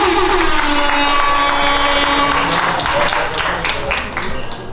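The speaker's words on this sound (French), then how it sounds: "Très bien, ça s'applaudit aussi s'il vous plaît" A crowd at a 20th wedding anniversary party in Quebec City claps together in one dense, sustained burst of applause that fades slightly toward the end.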